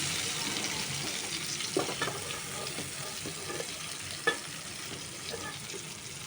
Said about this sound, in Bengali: ক্যাপসিকামগুলো আমি দু মিনিট একটু ভাজা ভাজা করে নিলাম